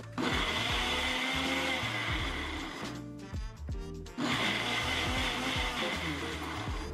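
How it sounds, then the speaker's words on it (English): A blender whirs loudly and steadily blending celery, lemon and a little water, briefly pausing and shifting pitch before resuming its grinding roar, close by with no talking. "I'm gonna add a little bit of water and then blend this up."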